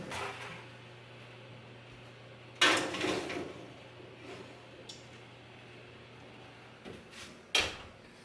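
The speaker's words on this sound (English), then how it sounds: "now I am ready to pop these in the oven for about 4 to 5 minutes" Metal seed trays loaded into a home kitchen oven, ending with the oven door shut, heard as a quiet low hum broken by a loud metallic clank, some softer rattles, and another sharp bang near the end, no talking.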